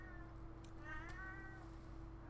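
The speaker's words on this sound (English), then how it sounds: "my cat Trey is meowing" A house cat meows once, a drawn-out, faint call heard indoors over a steady background hum, with no talking.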